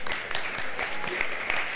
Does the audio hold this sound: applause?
yes